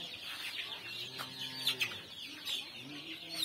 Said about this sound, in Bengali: এটু লোকাল মুরগি হয় ইয়াতে 600-এর উপর মুরগি আছে